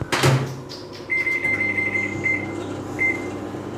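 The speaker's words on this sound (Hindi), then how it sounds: "ओट्स माइक्रोवेव में कुक होने के बाद" A microwave oven cooking oats makes a door clunk, a low steady hum, and then a series of high electronic beeps in short bursts.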